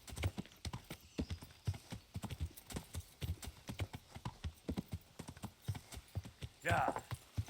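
Horse hooves clip-clop in a steady, even walking rhythm in the medieval video game Kingdom Come Deliverance, continuing throughout with a person talking over them.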